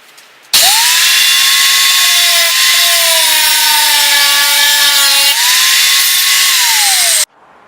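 A steel bolt has its tip cut off by a power saw, a loud continuous whining cut lasting about seven seconds whose pitch sags and shifts as the blade bites, then stops abruptly.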